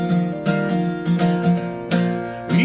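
An acoustic guitar plays the verse of a song with hammer-ons: close, bright picked chords and ringing notes in a steady rhythm, with no voice.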